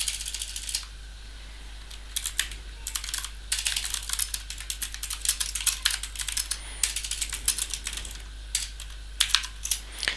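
Rapid bursts of keystrokes on a computer keyboard as a Linux command is entered, close and clear, coming in uneven clusters over a steady low hum with no talking.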